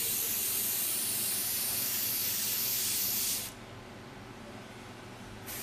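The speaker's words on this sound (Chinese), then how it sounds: "水微氧喷雾将产品变成小因子的形式喷出" A micro-oxygen water mist sprayer hisses as it sprays a skincare product as a fine mist, one steady bright spray for several seconds that cuts off abruptly, then a brief new burst begins at the end.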